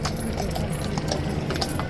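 Horses' hooves clip-clop steadily on pavement at Horse Guards in London, a continuous rhythmic clatter under busy outdoor crowd noise.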